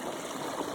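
A steady, gentle rush of irrigation water flowing along a channel into a wheat field, continuous and close, with no voices.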